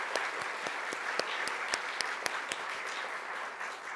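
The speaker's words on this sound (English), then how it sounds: "Please, let's give them a round of applause." Applause at a library conference, a broad continuous patter of many hands with a few sharp individual claps standing out, moderately quiet and steady for several seconds.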